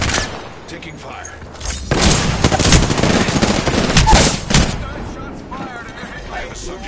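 Video game gunfire in rapid automatic bursts, loud and close, with dense rattling volleys swelling through the middle before easing off, and game voices calling out beneath the shooting.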